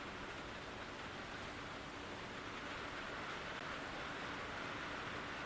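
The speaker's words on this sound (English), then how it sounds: "Can you hear the rain?" Heavy rain drums steadily on a tin roof overhead, a dense, continuous hiss and patter that stays loud and unbroken throughout, with no voices.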